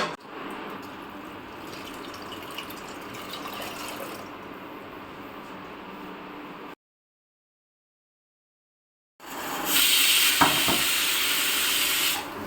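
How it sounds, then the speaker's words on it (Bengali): A pressure cooker boiling dal hisses steadily with steam, goes silent for a few seconds, then bursts back with a louder, sharper whistling jet of steam. "ডাল সেদ্ধ হয়ে গেছে, সিটি দিয়ে দিয়েছে।"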